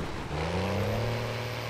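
Heavy truck engine in GTA 5 rising steadily in pitch after a gear change while hauling a heavy load uphill, a continuous loud drone with no talk over it.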